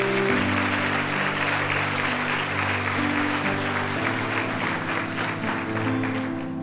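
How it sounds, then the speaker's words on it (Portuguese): Church congregation clapping during a Sunday service, steady broadband applause throughout over sustained music chords underneath. "E dê um aplauso a Jesus."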